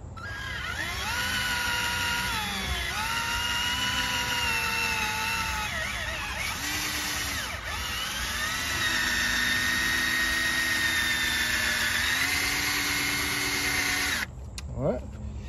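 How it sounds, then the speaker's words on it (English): A power drill with a buffing attachment polishes a crusty, weathered car headlight with cleaner, giving a close, steady high whine that dips and shifts as it moves back and forth, then cuts off near the end. "now simply just go back and forth with the drill"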